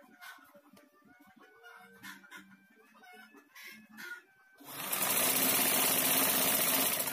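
A sewing machine stitches dress fabric for a dress without a shoulder seam, kicking in loud and close with a steady, fast whirring run after a quieter stretch where chickens cluck in the background.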